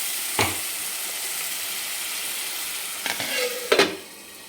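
Masala spice paste in a kadai for egg fry sizzles loudly and steadily after a splash of water, with a few spoon scrapes and stirs cutting through the hiss.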